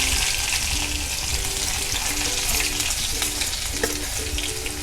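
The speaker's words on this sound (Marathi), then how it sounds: "आपण हे तेल तापलेलं आहे, त्यात मी जिरे मोहरी टाकते फोडणीला" Cumin, mustard seeds, curry leaves and garlic crackle in hot oil for a Marathi dry vegetable dish, a loud steady sizzle with scattered popping and stirring throughout.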